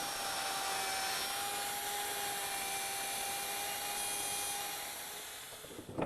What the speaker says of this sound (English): Now I've still got the 16mm bit set up in the router, and I've added a fence